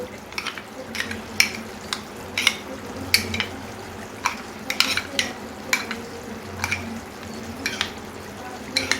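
Flour is whisked into milk for lauki shukto with quick, rhythmic clinks and scrapes against the vessel, which hold steady over a soft background hiss.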